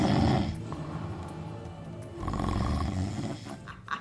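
A voice imitates an Iguanodon dinosaur snoring loudly, a few deep, rough, rumbling snores with drawn-out breaths that rise and fall over several seconds.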